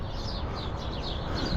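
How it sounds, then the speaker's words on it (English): Birds sing outdoors, with repeated bright chirps and short warbling phrases over a steady low background rumble. The song sits at a moderate distance throughout the brief stretch. "oh wow, listen to the birds."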